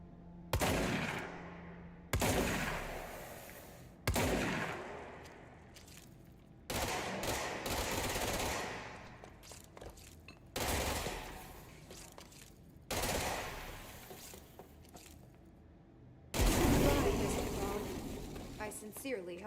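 Repeated bursts of automatic gunfire from the video game Control, loud and close, coming in roughly eight separate volleys with short gaps between them.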